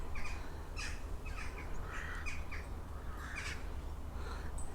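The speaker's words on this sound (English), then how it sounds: "Hear the birds over there." Several crows caw in short, harsh bursts at irregular intervals, a little distant, over a steady low outdoor rumble.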